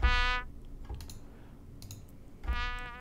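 Two short staccato brass hits from Logic Studio Horns, one at the start and one near the end, separated by soft keyboard clicks and near silence.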